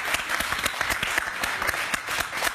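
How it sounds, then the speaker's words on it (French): A studio audience applauds a magician arriving on a French TV set. Dense, steady clapping from many hands fills the room without a break. Faint voices mix in underneath. "On peut l'applaudir."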